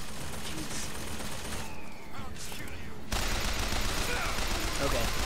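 Gunfire in the video game Bioshock Infinite is aimed at an airship, heard as a steady, dense stream of shots that grows louder partway through, with faint voices underneath.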